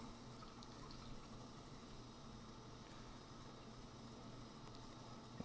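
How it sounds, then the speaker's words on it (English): Water is poured into a container holding Purigen filter media for regeneration, a steady, quiet splashing pour that runs evenly throughout with no talk. "And then we're gonna add some water back in."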